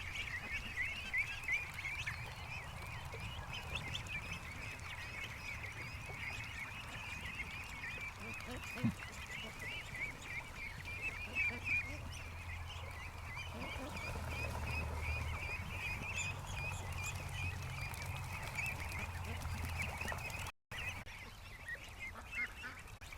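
Ducks running across a yard near a lake quack and honk in a continuous chattering stream at close range, with a low rumble underneath and a brief cut near the end.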